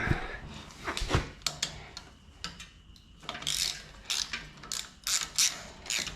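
A ratchet wrench clicks away on the starter motor bolts of a 327 small block Chevy during a teardown. Bursts of rapid ratcheting repeat close by, with brief pauses between them and no talk.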